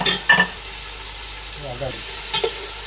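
Chicken, about a kilo, browning in a pan for biryani, giving a soft frying sizzle with a few brief stirring scrapes, close and moderately quiet.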